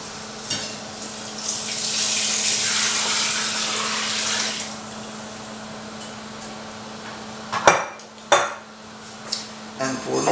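Beer poured steadily into a cooking pot for chicken and rice, a sustained splashing rush that fades, followed by a few clanks of a utensil against the pot.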